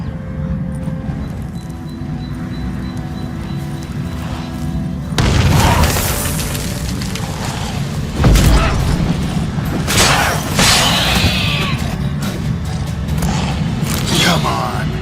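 A bomb goes off to destroy a ghoul nest in The Witcher 3 video game, a sudden loud boom followed by a second blast a few seconds later amid crackling debris and game background noise.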